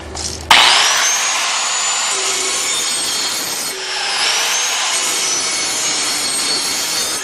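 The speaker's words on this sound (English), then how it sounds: "If you hold the grinder on the blade like this and stroke it with the back side of the wheel" Angle grinder sharpening a Briggs and Stratton lawn mower blade while it stays on the mower, the wheel stroked along the edge. A loud, steady abrasive grinding whine runs continuously and close, with no talking.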